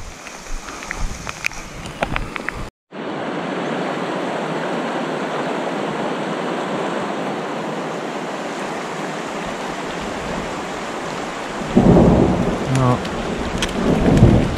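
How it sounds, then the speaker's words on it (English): Heavy rain pours steadily at a riverside camp during a summer thunderstorm, with a sharp break early on, then the downpour returns and thunder rumbles loudly later; no talking. "I don't think I'll get rained on all night."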